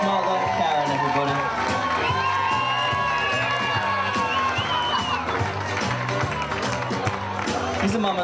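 Wedding guests cheer, whoop and clap in a lively crowd for Aaron and his mother Karen, a sustained noisy celebration with voices and music-like tones mixed in.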